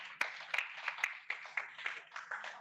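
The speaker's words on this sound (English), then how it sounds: "Applause for Awas" A classroom audience at an English language session claps for a participant, a quiet, scattered patter of hands with sharp individual claps standing out, lasting a few seconds.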